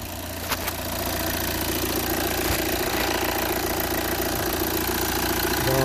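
An Audi A6 C6 2.0 TDI diesel engine idles steadily right after starting, a close, continuous low rumble with a faint knocking texture and no talk over it.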